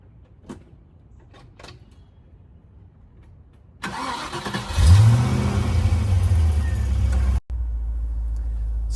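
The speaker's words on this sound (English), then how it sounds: "So I'm hearing that same sort of hum of the V8 engine" 1994 MG RV8 roadster's V8 engine: a few quiet clicks, then cranking, catching and a loud rev before settling into a steady, rumbling idle close by.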